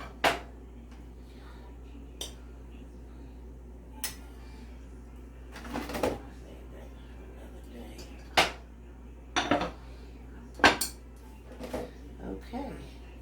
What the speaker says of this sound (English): So you can actually prepare the plate setting.